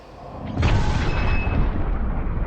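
A bullet impact bursts into an explosion, a sudden deep boom that swells into a loud, sustained rumbling roar and carries on to the end with no voices.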